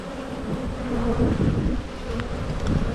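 Honey bees swarm and buzz around opened beehives during a hive inspection, a dense steady drone close by with no talking.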